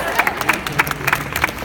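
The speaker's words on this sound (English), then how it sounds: "The whole crowd went nuts." Crowd at a Steven Universe fan panel at Phoenix Fan Fest breaks into loud, dense applause and cheering, with bursts of claps and shouts rising and falling throughout.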